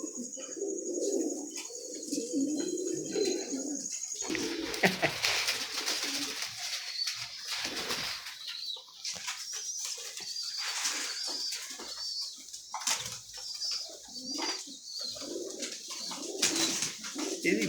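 Pigeons kept in pairs coo softly and repeatedly at close range, with chirps from other birds and occasional wing flaps in the background.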